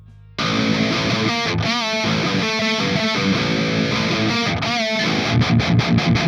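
Heavy distorted seven-string electric guitars through a Clairvoyant pedal in heavy mode, double-tracked, play chugging low riffs with brief stops and palm-muted bursts, loud and up close.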